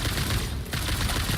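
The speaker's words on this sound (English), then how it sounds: "I have a gun. I could use it." Rapid bursts of gunfire from a rifle in the factory-building video game Satisfactory, dense and continuous with a brief dip midway, loud and close with no talking.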